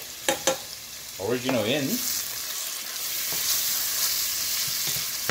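Tomato base with seafood chowder ingredients cooks in a pan, a steady sizzle with stirring scrapes throughout; a brief voice is heard near the start.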